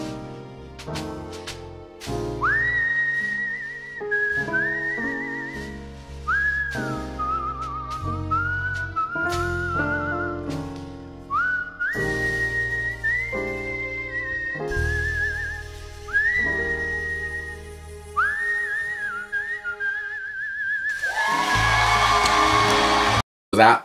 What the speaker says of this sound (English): she was whistling. I've never heard whistling like it.